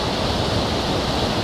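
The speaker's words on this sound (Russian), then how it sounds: "Это река." The Teberda river, a mountain river rising near Dombay in Karachay-Cherkessia, rushes steadily nearby in a dense, even roar of flowing water with no other sounds.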